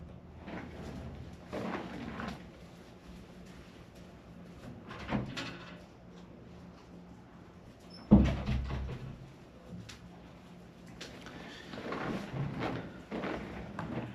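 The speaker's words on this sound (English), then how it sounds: "my dog is pounding at the door" A dog pounds at a door indoors, giving a few scattered dull thumps over quiet room noise, with one sharper, louder knock partway through and no talk.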